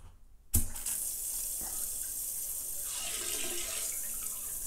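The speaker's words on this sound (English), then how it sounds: "So you can hear the water coming in a bit." Water rushes into a bidet sprayer on a toilet with a sudden steady hiss after a quiet start, a continuous bright, gentle spray flowing close by with no voices.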